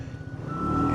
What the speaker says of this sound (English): I keep hearing a garbage truck.